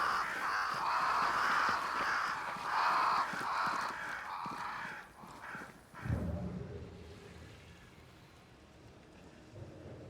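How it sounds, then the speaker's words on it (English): Crows cawing in the video game Banishers: Ghosts of New Eden, repeated harsh calls over a steady rain-like ambient wash, then a low rumbling thump and quieter ambience; no talking. "Crows. They flock to that great tree up there."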